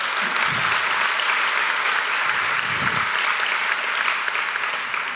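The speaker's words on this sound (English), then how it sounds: "A round of applause for them for that" Steady applause fills a Chamber of Commerce coffee gathering in Fort Walton Beach as the crowd claps for church volunteers, even and continuous from start to finish.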